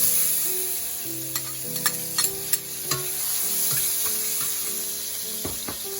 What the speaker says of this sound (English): Now I'm adding the onion